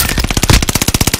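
Rapid automatic gunfire rattles from a first-person shooter video game, a loud, close burst of about a dozen evenly spaced shots in just over a second.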